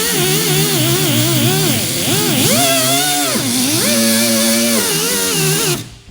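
An angle grinder works over car body metal around a dent, a loud, steady motor whine whose pitch wavers up and down as the disc is swept across the panel, cutting off abruptly near the end.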